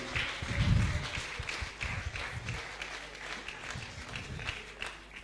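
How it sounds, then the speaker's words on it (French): A church youth programme audience in Gabon applauding, a swell of clapping and cheering at first that settles into steady, moderately loud clapping from the crowd. "Est-ce qu'on peut l'encourager avec des ovations s'il vous plaît?"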